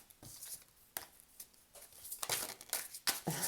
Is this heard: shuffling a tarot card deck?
yes